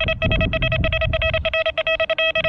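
An XP Deus II metal detector sounding its target ID over a ring, a loud, steady electronic tone pulsing rapidly and choppily, close up with no speech.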